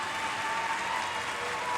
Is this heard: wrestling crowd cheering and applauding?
yes